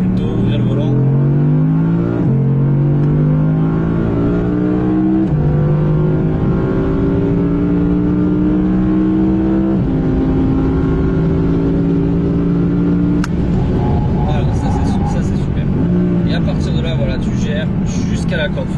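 An Audi R8 engine climbs through the gears on a race track, loud rising revs repeatedly cut by quick upshifts, heard from inside the car with people talking over it.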